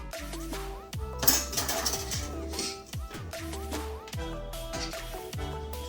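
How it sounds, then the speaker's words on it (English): A whisk rattles quickly against the sides of a bowl while dry mix for vegan, dairy-free donuts is stirred together, giving a continuous clinking, ringing scrape up close without any talk. "what I do for my dry mix is I just whisk it together."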